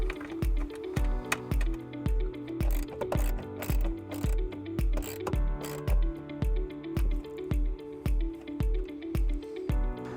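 A ratchet tightens a ground wire bolt during a wiring harness install on a 2018 Toyota C-HR, a steady run of close, loud rhythmic clicking strokes repeating evenly throughout.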